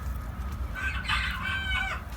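A village hen clucks in a steady run of short, bright calls, fairly close and moderately loud over a low rumble of background noise.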